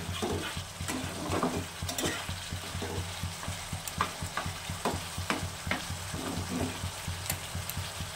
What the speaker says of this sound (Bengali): মশলাটা এভাবে করে কষিয়ে নিতে হবে।